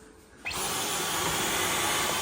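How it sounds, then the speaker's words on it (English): A vacuum cleaner clearing drilling dust after pre-drilling holes for a TV wall mount switches on abruptly and runs with a loud, steady, close-up whooshing whine, alone without talk. "Next, you'll want to vacuum"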